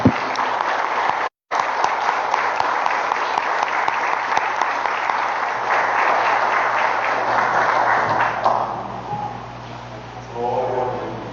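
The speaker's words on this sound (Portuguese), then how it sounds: "E as palmas louvem ao Senhor Jesus." A church congregation at a Pentecostal service claps steadily and loudly for several seconds, a continuous dense patter that thins and fades toward the end as a voice briefly comes in.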